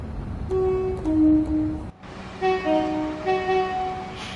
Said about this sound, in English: I do like the sound of the Pendolino horn.